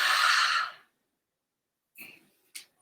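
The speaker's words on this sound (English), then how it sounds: "And exhale down." A person exhales loudly during a qigong breathing exercise, one close breathy rush that stops abruptly. Silence follows, then a couple of short soft breath sounds.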